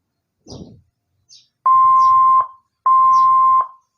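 Two long, steady electronic beep tones, each lasting under a second with a short gap between them, preceded by a couple of brief softer clicks.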